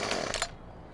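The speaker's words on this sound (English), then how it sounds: "gotta have a chainsaw" Chainsaw cutting logs in Farming Simulator 15, a buzzy, fairly faint whine with a few rough pulses that cuts off halfway, leaving a low background hum.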